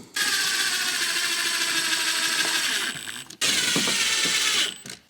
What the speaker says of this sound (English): then I'll go through and tighten up all of the screws